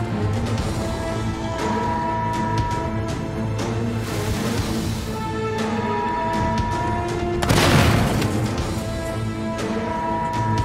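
A barrel explodes in the survival-horror game Daymare 1998, a single loud boom bursting out late over a steady droning game soundscape.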